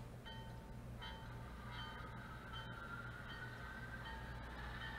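A small model train's mechanical hum runs steadily on a DCC++EX-controlled layout while its bell sound rings in a regular repeating pattern, soft and close.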